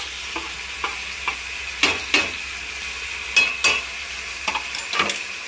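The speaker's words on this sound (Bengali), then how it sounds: "ওর মধ্যে দিয়ে আবার ভালো করে মশলাটাকে কষিয়ে নেব" Masala being sautéed and stirred in a pan for Afghani chicken, a steady low sizzle broken by repeated scraping strokes of a spoon against the pan, close and moderately loud with no talking.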